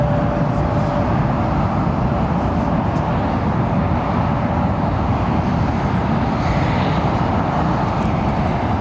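An airplane departs London Heathrow Airport, a loud continuous broadband engine roar with a faint steady tone, holding level throughout without voices.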